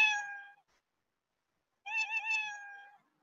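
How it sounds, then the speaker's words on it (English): Two clear cat meows separated by a pause of silence, the second longer and wavering, close and fairly loud. "If you don't want to hear this meow sound, you can actually add other sounds here."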